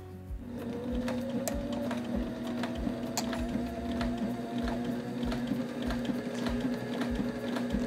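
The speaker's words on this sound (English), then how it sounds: "Then we're gonna lower our presser foot and then we can sew this hem." A sewing machine with a binder attachment runs steadily, stitching a fabric hem under a lowered presser foot, a continuous close whirring hum with faint rhythmic ticking throughout.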